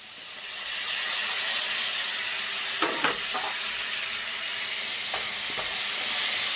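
Onion and tomato frying in a pan for onion chutney, a constant close hissing sizzle with a few brief scraping stirs of a spatula partway through, no talking.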